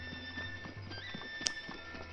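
A horse in the video game Zelda Breath of the Wild, faint soft hoof clip-clops and a brief whinny over a steady ambient hum, no talk.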